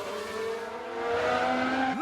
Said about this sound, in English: Someone spun out.